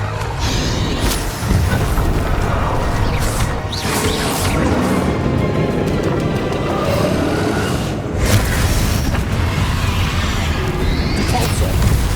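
Magic spells such as disarming and shielding charms cast during combat in Hogwarts Legacy, making a steady run of crashing, booming impacts and whooshing bursts over a dense game soundscape for most of the stretch.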